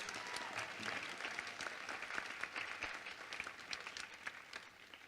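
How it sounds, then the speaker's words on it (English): Sustained audience applause in a school hall at a Thespian Society awards ceremony, honoring student award recipients; dense, steady clapping from a sizable crowd that holds for several seconds before starting to thin. "Give them a round of applause"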